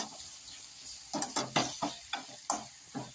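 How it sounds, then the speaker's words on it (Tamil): Tomato, garlic, chilli and onion sauté in a pan for a brinjal kara kuzhambu. A quiet sizzle is broken by a run of rhythmic, close spatula scrapes and stirs, about seven strokes with no speech. "திரும்ப நல்லா வதக்கிக்கலாம் ஃப்ரெண்ட்ஸ்."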